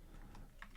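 Fingers type on an external computer keyboard, a few quiet, quick keystrokes clicking close by in a brief burst with no speech.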